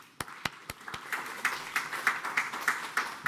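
Conference audience clapping, starting with a few loud, separate claps close by, then building into steady rhythmic applause from a small group in a room.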